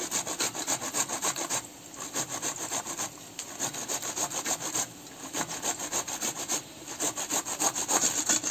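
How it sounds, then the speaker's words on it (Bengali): Tomatoes are grated by hand: a steady, close scraping rasp repeats in fast back-and-forth strokes, with short breaks between runs. "এই যে আমি 4টে টমাটার ঘষে নিছি"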